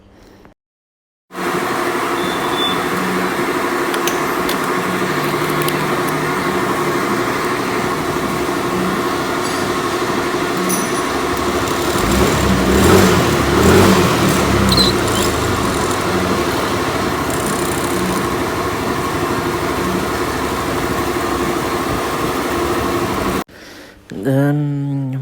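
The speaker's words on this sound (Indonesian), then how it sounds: "berisik banget ya, itu suara kompresor teman-teman" An air compressor runs loud and steady beside a Yamaha Aerox scooter during an engine test, a dense continuous roar that starts abruptly, holds nearly constant for over twenty seconds, then cuts off.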